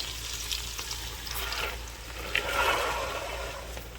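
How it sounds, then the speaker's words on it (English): Ground meat for chili sears in a hot pan beside pushed-aside vegetables, giving a steady close sizzle and crackle with a few louder spits and pops, and no voices. "I want my ground meat to get a good sear on it."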